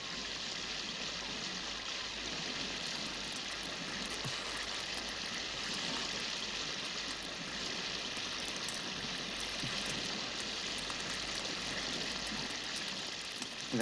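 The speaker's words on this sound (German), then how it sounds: "Wenn der Regen die ganze Nacht so weitergeht," Steady rain falls at night in an outdoor coastal camp, a dense, even hiss of drops on surfaces that holds unbroken and fairly soft throughout, with no voices.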